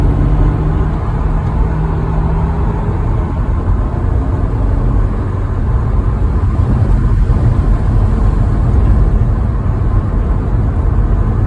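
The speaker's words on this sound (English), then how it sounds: "So that noise that the car makes is when the engine moves into its real power band" A car engine pulls hard and rises into its power band, a steady loud low rumble of road and engine noise running throughout with no talk.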